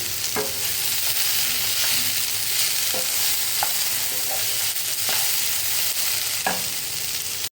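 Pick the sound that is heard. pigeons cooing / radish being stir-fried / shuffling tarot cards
radish being stir-fried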